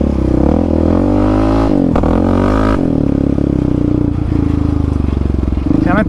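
A Yamaha Raptor 700 ATV engine lugging along in third gear, its close, loud, pulsing thump shifting pitch as the revs rise and fall, with a brief clatter partway through.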